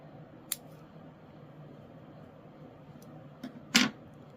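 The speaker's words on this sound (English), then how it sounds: "then I am going to cut my yarn" Scissors snip yarn after crocheting a granny square, with a faint click early, then two crisp close cuts near the end in a quiet room.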